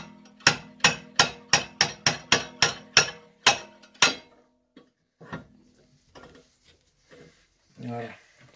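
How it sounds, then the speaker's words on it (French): Hammer blows knocking rear torsion bars out of a Peugeot 205 rear axle: about ten sharp metallic strikes in a steady run, then scattered lighter knocks and brief speech near the end. "vous utilisez le petit doum-doum pour sortir les barres de torsion"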